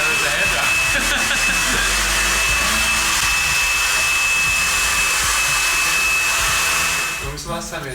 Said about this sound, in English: Now there's a hairdryer.